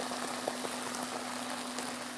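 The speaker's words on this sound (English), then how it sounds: "And you can hear it sizzling" White cooking wine sizzling in a hot pan, a faint steady crackle and hiss with scattered soft pops, heard without any talking.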